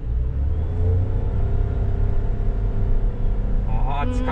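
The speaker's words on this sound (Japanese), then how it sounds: "ちょっと踏み込んでみますね。" A 2023 Mitsubishi Delica Mini turbo kei car accelerates from inside the cabin, a steady rising engine drone and road rumble heard close, with people talking at the end.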